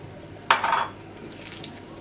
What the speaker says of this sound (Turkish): Birazcık daha su ekleyeceğim arkadaşlar.